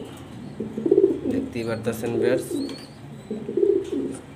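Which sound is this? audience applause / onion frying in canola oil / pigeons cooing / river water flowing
pigeons cooing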